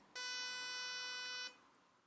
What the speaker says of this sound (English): Here's a pulse train.